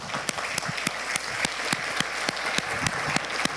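A congregation applauds during a Spanish-language church service, with brisk clapping from a group. A few loud close hand claps ring out in a rough rhythm over the softer crowd clapping for several seconds.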